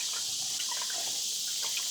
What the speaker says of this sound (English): we should be able to see gas start pouring out of here